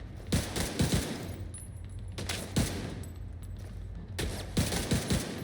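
Bursts of rapid gunfire from a light machine gun in The Division 2, loud and close, arriving in three clusters of quick shots separated by brief pauses.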